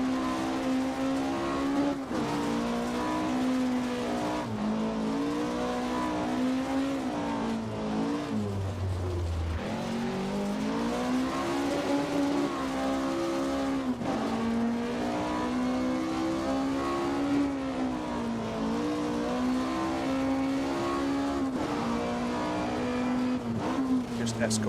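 Rally car engine in Richard Burns Rally on the RAC Rally hill stage drones steadily at high revs, dipping briefly on a gear change before climbing again, loud and continuous under someone talking.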